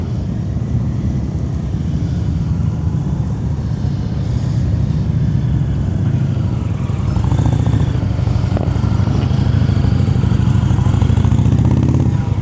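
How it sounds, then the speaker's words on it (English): A motorcycle rolls through slow-speed practice maneuvers in a Pennsylvania riding session, its low engine drone steady and close for the whole stretch, swelling slightly near the end with no talk over it. "what's making it easier for him to turn this motorcycle"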